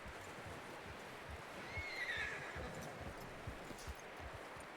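A horse in Red Dead Redemption 2 gives a short whinny midway through a faint, steady game soundscape with soft hoof and ambient noise.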